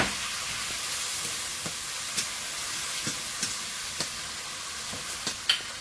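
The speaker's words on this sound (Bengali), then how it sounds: "মশলাটা ভালো করে কষিয়ে নেবো।" Spice masala with salt, cumin powder and a splash of water sizzles steadily in a pan while stir-fried, a constant hiss broken by occasional light spatula taps.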